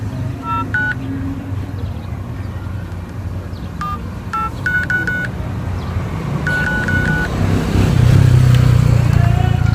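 Keypad tones beep as a phone number is dialed on a mobile phone, in several quick runs of short beeps with pauses between them. Motorcycle and traffic rumble underneath, growing louder near the end.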